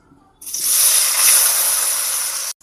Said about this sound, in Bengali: এবার পনিরগুলো ভেজে নেব।